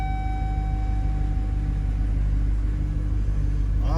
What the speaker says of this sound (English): Idling good.